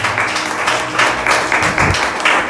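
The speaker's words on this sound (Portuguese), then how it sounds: "Aplauda Jesus, igreja" A church congregation applauds during a Portuguese-language sermon, a loud, uneven burst of clapping with pulsing swells, overlaid by a low voice or instrument rumble.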